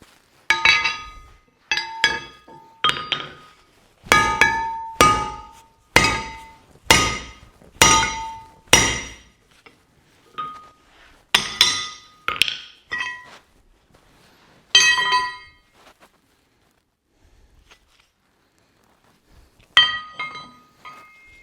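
A hammer drives a wedge into the eye of a vintage axe, giving bursts of sharp ringing metallic taps in quick runs separated by pauses, loud and close with no voices.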